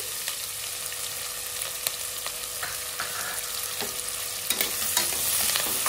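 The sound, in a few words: onions frying in a pan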